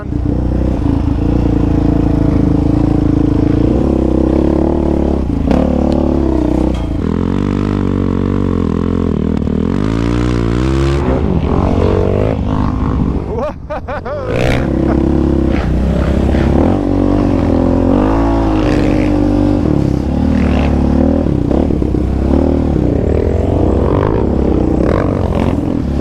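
Yamaha Raptor 700 ATV fitted with DBR parts being ridden on a muddy trail, its engine droning loud and close throughout with rising and falling revs and a brief dip midway.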